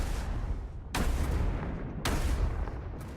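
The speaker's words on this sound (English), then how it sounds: "Let's try the rocket launchers." Heat-seeking rocket launchers fire in the VR game Skyfront VR, two heavy booming blasts about a second apart with a third starting at the end, each followed by a dense rumbling roar. No one speaks.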